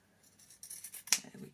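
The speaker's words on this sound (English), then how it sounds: "Now if you want to, you can trim the ends, which I will do" A few quiet snips of scissors trimming rope ends, with one sharper cut near the end, against a soft, mostly still background.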